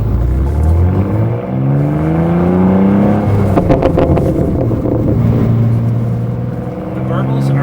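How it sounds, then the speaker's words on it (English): A BMW G87 M2 with an AWE exhaust in Sport Plus mode rumbles loudly. The engine drone rises and falls, with a cluster of crackling exhaust burbles midway and some wind buffeting the microphone. "The burbles are so cool."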